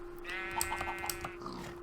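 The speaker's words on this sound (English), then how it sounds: "A random pink sheep, because we all love pink sheep." A pink sheep in Minecraft bleats in short wavering cries, close and clear against a steady background hum.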